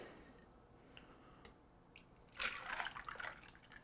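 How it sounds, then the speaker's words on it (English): Faint drips and clinks give way to a short splashing pour of a clementine juice cocktail over ice, quiet and close. "Pour this over the ice"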